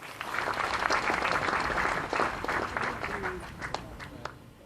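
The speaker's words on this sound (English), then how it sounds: "Give yourselves a round of applause." Audience at the Botswana Sport Awards ceremony applauding with loud, dense clapping that swells and gradually thins, scattered cheers mixed in.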